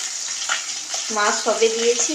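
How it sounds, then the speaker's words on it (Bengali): Fish, freshly added to hot oil in a wok, fries with a steady, close sizzle and hiss, and short tonal kitchen sounds rise over it near the end. "আর এদিকে মাছ দিয়েছি কড়াইতে, সবে ভাজা হচ্ছে"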